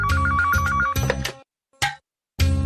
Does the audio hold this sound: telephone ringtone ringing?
yes